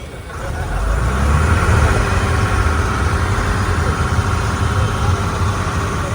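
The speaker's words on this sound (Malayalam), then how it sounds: "ഹൗസ് ബോട്ടുകൾക്ക് ഇടയിലൂടെ നമ്മുടെ സർക്കാർ ബോട്ടിങ് ഇങ്ങനെ പോവുകയാണ്" A government ferry boat cruises through the Alappuzha–Kottayam backwaters past houseboats, its engine a loud, steady mid-pitched drone that holds without a break, with faint voices in the background.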